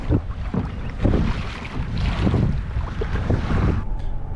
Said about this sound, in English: it's not too bad, but definitely a little bit breezy out here